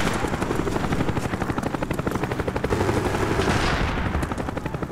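Cobra attack helicopter in Call of Duty Black Ops, its rotor chopping steadily and loudly throughout, mixed with rattling gunfire.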